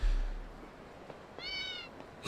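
A cat gives a single short, clear meow partway through, surrounded by quiet room noise and a few faint clicks.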